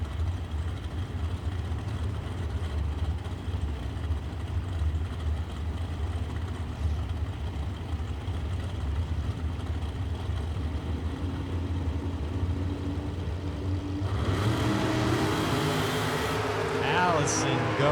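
Drag racing cars at a nationals event rumble at idle in the lanes, a steady low engine drone that swells louder near the end as they fire back up, with an announcer talking over it.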